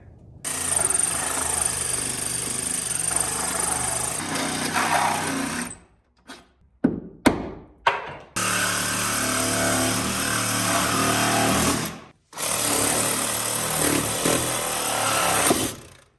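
A power tool notches a wooden floor joist during bathroom plumbing work, running as a loud, steady high-pitched buzz in long stretches, broken by a few quick bursts and short pauses, close up with no voices.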